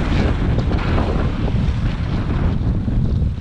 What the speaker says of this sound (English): how strong the wind is